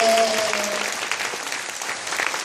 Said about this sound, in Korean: 우리 하나님의 영광의 박수입니다